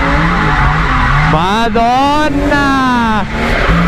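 A race car on a track squeals its tires in a loud, wavering screech with high engine revs rising and falling, close by, as someone shouts excitedly over it.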